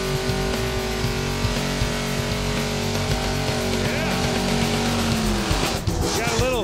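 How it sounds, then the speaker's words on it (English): At a Pass Time drag racing event, a drag car does a burnout, its engine roaring steadily with squealing tires throughout, while commentators talk over the noise. "let's watch the burnout"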